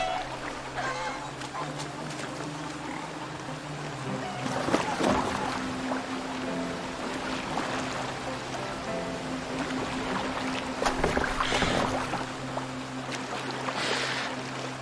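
In the game Assassin's Creed Valhalla, a rowing boat moves across the water with steady splashing and creaking oar strokes, a low hum and water wash running underneath, with occasional louder splashes.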